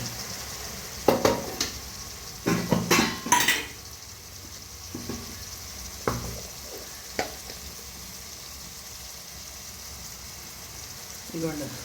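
Tomato pieces softened in oil with coriander, cumin and chili powder for a village-style goat blood curry sizzle steadily, broken by loud spoon clanks and stirring bursts against the pot, with a voice speaking faintly at times.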